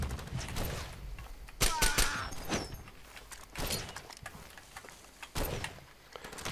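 Gunfire from the video game Far Cry 2: a few sharp, loud shots in separate bursts spread across the stretch, with mechanical clatter and background game noise between them.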